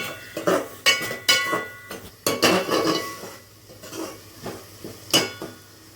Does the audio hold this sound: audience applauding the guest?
no